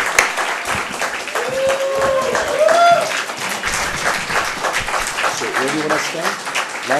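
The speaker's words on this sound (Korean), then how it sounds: "우리 마음이 뜨겁게 열려있다면 뜨거운 박수로서 두 분을 환영하시기 바라겠습니다" A church audience breaks into warm applause welcoming a couple to the front; dense clapping runs throughout under voices speaking over it.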